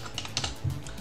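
Fast bursts of keystrokes on a computer keyboard as a terminal command for generating SSH keys is typed in, close and clear with no talk.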